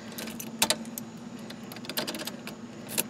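Car keys jangling near a 300,000-mile turbo Acura Integra, several bright metallic rattling bursts at close range in quiet surroundings.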